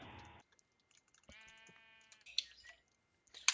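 A sheep bleats in the Minecraft video game, a quavering call at middle loudness standing alone, bracketed by brief noisy bursts and sharp clicks.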